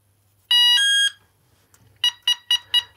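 A Texecom Veritas Excel alarm panel sounds its tamper tone with the bell disconnected: one loud, close, steady tone of about half a second, then a quick run of four short beeps.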